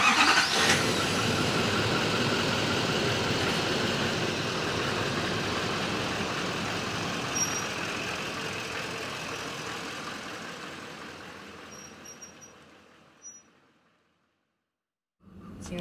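A junkyard golf cart engine cranks and fires on starting fluid, a loud steady running roar that holds for about thirteen seconds before cutting out, with a short burst restarting at the end.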